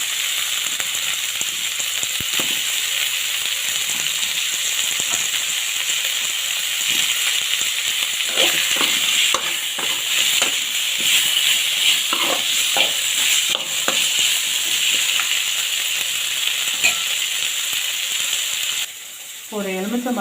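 Taro root being sautéed in a pan for a dried-fish and pirandai tamarind curry, with a steady sizzle and bursts of stirring and scraping against the pan throughout, loud and close, with no voice over it.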